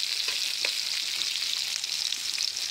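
Vegetables sizzle on a hot tawa, a dense, steady high crackle with a few light scraping stirs, close and continuous with no talk.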